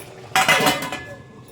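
A plate set over a pot of jeera rice on a low flame as a lid: one bright clattering clink of dishware that rings briefly and then fades, heard alone without any talking.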